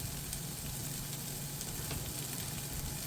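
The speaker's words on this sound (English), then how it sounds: "I'm simply going to saute these until the onions pick up some nice color." Onions sautéing in a hot pan give a constant, dense sizzle that stays even and close for a few seconds with no talking.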